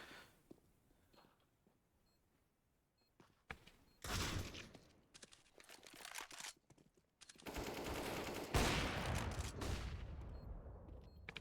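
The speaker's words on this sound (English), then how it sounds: "Nice shot by Hobbit to get onto the site" Counter-Strike esports match gunfire: sparse distant shots at first, then loud automatic rifle bursts, followed by a sustained rapid volley that rattles on before tapering off.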